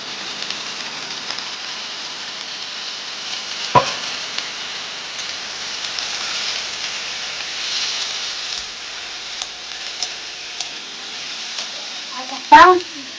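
Potatoes sizzle in a kadai with a steady, moderate frying hiss, broken by two sharp clanks of stirring, one early and one near the end.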